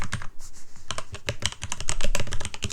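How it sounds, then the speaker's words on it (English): Rapid typing on a softer computer keyboard, dense irregular keystroke clicks heard close and alone, slowing briefly before speeding up again. "I swapped keyboards because this one I think is a little softer when I type."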